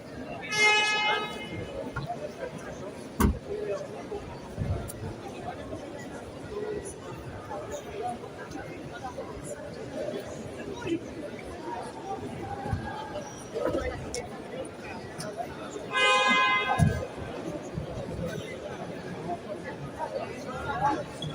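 Car horns hoot in short bursts at an electric car show inside the Altus, sounding at the start and again later over a steady background of crowd chatter.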